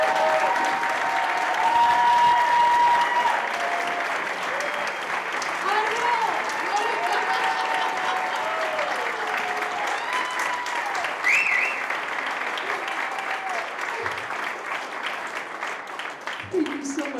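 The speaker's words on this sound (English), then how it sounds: "So would you please give Ron Newman a big round of applause?" An audience at a jazz tribute concert gives sustained, even applause for an honoree, a dense wash of many hands with faint voices and a few whoops mixed in.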